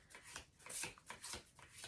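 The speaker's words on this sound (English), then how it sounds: "That was a really weird shuffle." A deck of tarot cards is shuffled close by, quiet rhythmic riffling bursts repeating several times in under two seconds.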